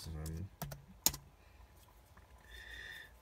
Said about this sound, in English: So let's just type in, actually, generic